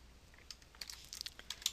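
Quiet computer keyboard typing while entering a Visual Basic formula: a scattered run of light, irregular key clicks that come closer together toward the end, with no speech.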